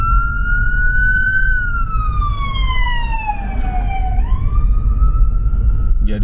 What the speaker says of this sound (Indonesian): Ini kalau ada ambulans gini, langsung dikosongin kan yang ada di depannya itu berhenti.